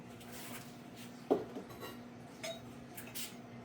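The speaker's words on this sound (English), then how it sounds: "And a couple more mugs." Ceramic mugs being unloaded and handled, giving a single sharp clink followed by a few lighter taps against a low steady background hum.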